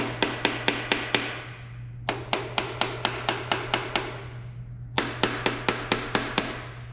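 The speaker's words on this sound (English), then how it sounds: "I have to use the harder side of the mallet here." A mallet's hard face strikes parts of a Honda D16 engine during a teardown in rapid, evenly spaced metallic taps, three bursts of about eight blows each, loud and close with ringing decay.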